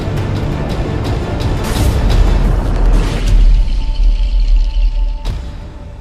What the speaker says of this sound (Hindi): राम के कहने पर मैजिकल रोबोट उन दोनों पर फायरिंग करने लगा